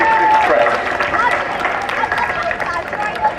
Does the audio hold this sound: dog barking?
no